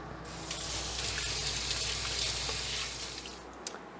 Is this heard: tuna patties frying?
yes